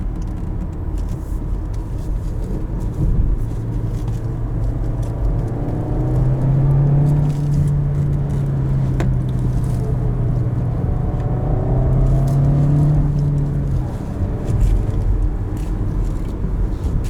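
A 2020 Volkswagen Jetta S with a manual gearbox drives along a road on eco-friendly tires, a steady interior engine hum and tire roar with rising and falling engine tones, heard alone.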